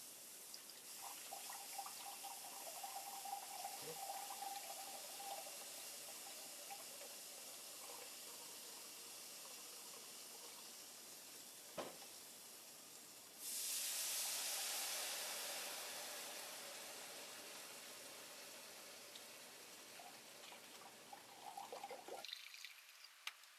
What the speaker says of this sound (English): we're going to add 4 cups of beef broth